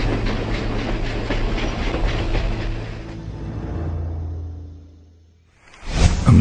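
A restored tourist train on a railway high in the Andes near Chimborazo rumbles and clatters loudly, fades away, then a sudden loud burst returns at the end.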